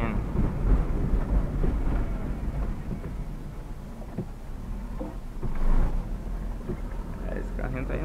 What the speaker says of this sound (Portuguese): E a velha chuva caindo.